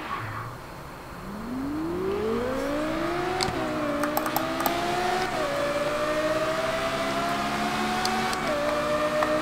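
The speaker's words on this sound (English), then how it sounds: "At least we've got the Carrera GT for this noise." A Porsche Carrera GT engine in Forza Horizon 4 revs up loud and close, rising in a long climb that breaks into quick shifts before pulling steadily higher again, with sharp clicks over the top.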